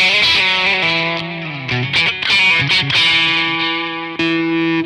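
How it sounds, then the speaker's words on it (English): Fuzz-distorted electric guitar from a VOX StompLab IG modeling effects processor, loud and saturated with sustained buzzing notes and short chordal phrases, played alone and up close. "F1, which is the fuzz."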